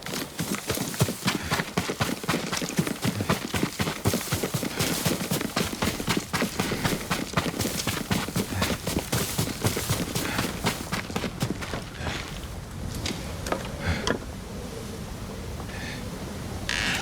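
Horse hooves galloping in the video game Ghost of Tsushima, rapid rhythmic clip-clop beats, loud and close, running steadily before easing off near the end into quieter ambience.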